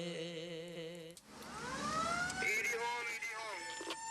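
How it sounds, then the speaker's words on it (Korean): An ambulance siren wails along the streets of Karachi in the early pre-dawn hours, a steady pulsing tone that sweeps into rising and falling glides partway through, loud and close, with other sounds layered underneath. "카라치 거리를 달려가는 구급차를 직접 몰고 가는 사람"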